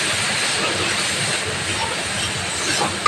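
Water splashed into spice paste frying in oil hisses into a loud, steady, broadband sizzle that holds unbroken throughout, ending with a small clink.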